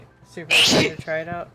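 A single sharp sneeze bursts out between bits of casual speech, close and fairly loud.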